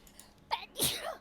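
A single sharp sneeze bursts out close by after a small preceding breath, over quiet room tone during a tabletop Dungeons and Dragons session.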